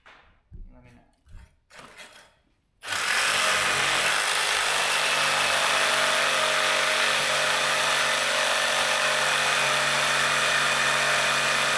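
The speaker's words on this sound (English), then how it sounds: "let's see if we can't get these bolts cut off" A power tool with a yellow blade cuts off tailpipe bolts on a Nissan Titan, starting abruptly after brief talk and then whining loudly and continuously up close.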